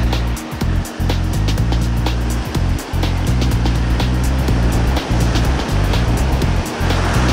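Ocean surf washes against a rocky fishing shore in Miyazaki, Kyushu, a steady close roar of breaking waves with a low rumbling undertone that swells and dips throughout, with no voices.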